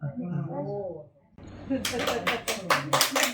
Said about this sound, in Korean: 박수 크게, 크게